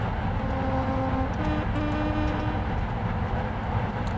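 Train running along the East Coast Main Line between Edinburgh and Dundee in Trainz Railroad Simulator 2019, a steady loud rumbling drone with faint clicking, continuous throughout with no talking.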